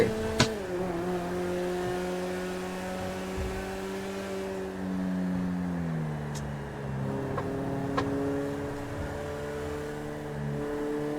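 A car engine drones and shifts pitch while driving through traffic in GTA 5. The revving is steady and close, with a few sharp clicks and no speech.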